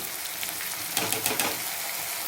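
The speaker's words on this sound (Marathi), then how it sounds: "झाकून नाही ठेवायचं याला असंच फ्राय करून घ्यायचं म्हणजे शिजवून घ्यायचं" Spring onion greens fry in an open pan with a steady, close sizzle, broken near the middle by a short run of scraping stirs before the crackle settles back to an even hiss.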